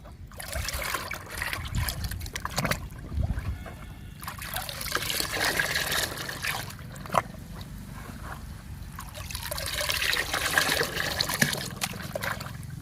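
Homemade liquid fertilizer made from kitchen waste, egg powder, tea powder and groundnut cake trickles and splashes as it is poured, close and intermittent, with soft handling noises between streams.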